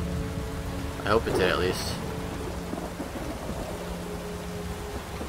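Steady rain in The Witcher 3: Wild Hunt video game, a constant hiss throughout with a low rumble underneath, while a voice speaks briefly over it.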